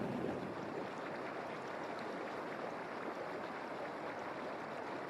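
Extremely acidic volcanic hot springs bubble and churn in a steady, faint, continuous wash of watery noise, with no voices.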